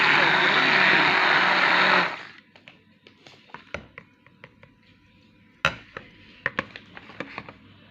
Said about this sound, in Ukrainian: Зараз я крем збиваю ручним блендером.